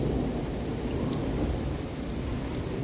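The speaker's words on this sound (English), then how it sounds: "Out here recording the rainstorm." Steady, heavy rain of a severe thunderstorm in Albert Lea, Minnesota, a dense continuous wash with low thunder rumbling underneath throughout, close and fairly loud, with no talking.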